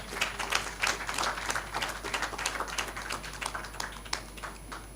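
An audience at a public-private policy dialogue on grain trade in Eastern and Southern Africa claps for a speaker, a steady patter of many hands that holds for several seconds at moderate level, with no talk over it.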